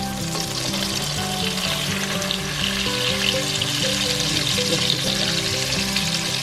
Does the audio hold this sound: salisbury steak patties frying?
yes